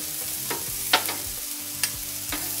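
Onions fry with a steady, dense sizzle on a Steelmade flat top griddle, broken by a few scraping stirs of a spatula, close and continuous with no voices.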